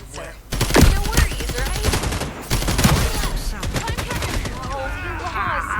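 Rapid bursts of automatic gunfire from the online shooter game FragPunk crackle throughout, mixed with other game sounds, while a player talks over them.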